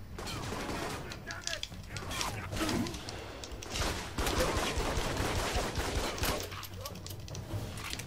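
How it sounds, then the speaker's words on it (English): Assault rifle gunfire in the video game Alpha Protocol rattles in dense, continuous bursts with thuds and mechanical clatter, loud throughout, while a voice talks over parts of the firing. "Why is this assault rifle so horribly inaccurate?"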